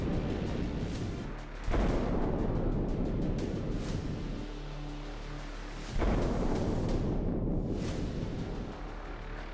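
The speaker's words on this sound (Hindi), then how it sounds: "ईरानी नेवी के जहाजों पर बमबारी का ये वीडियो अमेरिकी सेंट्रल कमांड ने जारी किया है।" US bombing of Iranian navy ships: heavy explosions boom in sudden blasts a few seconds apart, each followed by a long rumbling roar and crackling debris.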